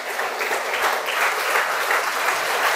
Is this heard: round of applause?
yes